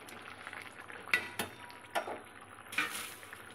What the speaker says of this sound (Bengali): দেখো ঝোলটা বেশ ফুটে উঠেছে